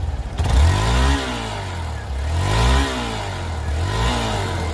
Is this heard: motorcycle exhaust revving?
yes